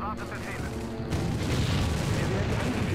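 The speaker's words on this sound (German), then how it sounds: "war das alles amerikanische Artillerie oder was?" Artillery barrage in the real-time strategy game Empire Earth, with dense, rumbling booms and blasts piling up into a continuous roar of battle noise that swells louder partway through.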